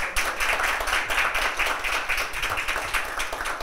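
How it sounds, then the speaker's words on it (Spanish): Audience applause for a panelist at a Spanish-language film and creative economy talk, a steady patter of many hands clapping at close range, unbroken and without voices for a few seconds. "Vamos a dar un aplauso a nuestro panelista."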